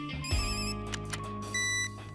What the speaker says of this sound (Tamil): என்ன லட்டு சிங், ஹெட் குவார்டர்ஸ்ல இருந்து ஃபோன் பண்ணாங்கப்பா.